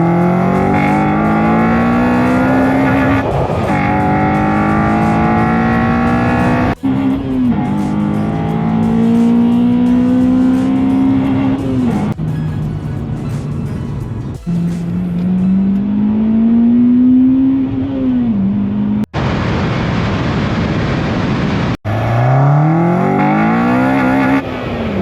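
Honda Civic Type R engine accelerating hard on a test drive, revving up repeatedly through the gears with rising whines and brief drops at each shift, loud and close throughout.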